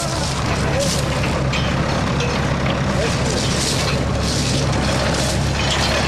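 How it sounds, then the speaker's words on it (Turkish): A tractor pulls a potato harvesting machine through a field, giving a steady, loud, broadband engine rumble and clatter of soil that runs continuously throughout with no pauses. "Bir traktör aracılığıyla patates söküm makinesiyle beraber görmüş olduğunuz gibi patates toprağın altından toprağın üzerine doğru"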